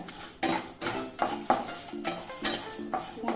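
Garlic is stirred in a pan for beetroot poriyal, a series of rhythmic scraping strokes of a spoon against the metal pan, about eight quick strokes over a faint sizzle.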